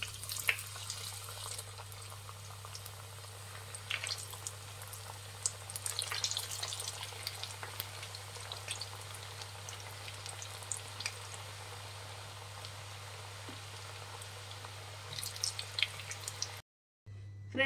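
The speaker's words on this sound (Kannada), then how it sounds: "ಇನ್ನು ಮಿಕ್ಕಿದ್ದು ಸೇಮ್ ಇದೇ ಥರನೇ ಎಲ್ಲ ಫ್ರೈ ಮಾಡ್ಕೊಳ್ಳೋಣ ಎಣ್ಣೆಯಲ್ಲಿ." Sweet corn samosas deep-fry in oil with a soft, steady bubbling hiss, faint and even throughout, beneath a low constant hum, with a brief dropout near the end.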